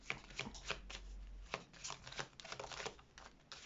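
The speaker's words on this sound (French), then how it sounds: "Allez, on fait tomber 5 cartes." Tarot cards are shuffled and dealt out onto a surface in a quick series of soft flicks and slaps, close and faint, with no talking.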